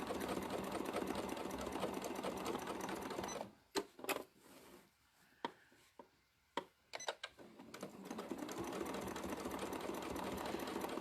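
A sewing machine doing free motion quilting runs in a fast, steady mechanical whir, stops for a few seconds of quiet with scattered clicks and knocks, then starts stitching again.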